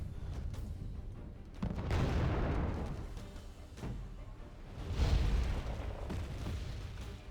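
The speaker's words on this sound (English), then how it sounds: "Got artillery being fired. That was M109s, a Netherlands version." Dutch M109 self-propelled howitzers fire in Wargame Red Dragon, several heavy booms spaced a few seconds apart, each followed by a rolling rumble that fades, loud and fairly close over a steady battlefield background.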